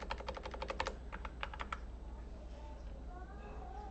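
Rapid clattering keystrokes on a computer keyboard while writing CSS code, a dense burst of clicks followed by a few separate taps, then quiet room tone.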